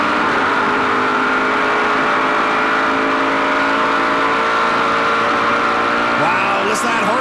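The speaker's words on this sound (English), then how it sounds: "Wow, listen to that horsepower down the backstretch. It's picking up RPM." A Chevrolet race car engine at a Vortex Brake Pads 200 stock car race, throttle climbing steadily through the revs in a long sustained drone, with a commentator talking over it.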